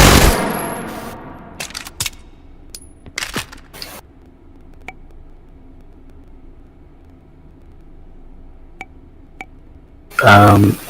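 Submachine gun in a video game, a Dux 53, firing in a few short separate bursts and single cracks, loud and close, with quieter gaps between and a final dense burst at the end.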